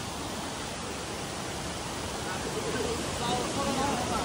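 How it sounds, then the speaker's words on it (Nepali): A natural waterfall above a swimming hole, giving a steady, full roar of falling water that stays constant throughout and swells slightly toward the end. "तल नि यस्तो मिठो झरना छ होइन।"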